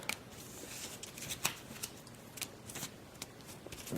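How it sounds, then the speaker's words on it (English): Board game cards are shuffled close by in soft riffling bursts with sharp snaps, alone with no voices. "Shuffle them a little bit."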